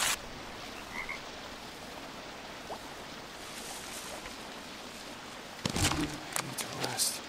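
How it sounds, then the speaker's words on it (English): A blue frog croaks faintly in the jungle game Green Hell over a constant hiss of rainforest ambience, followed near the end by a louder cluster of croaks or rustles. "Blue frog again."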